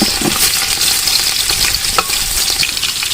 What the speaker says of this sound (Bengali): তেল দিচ্ছি, এটা রসুন দিলাম, কালি পেঁয়াজ,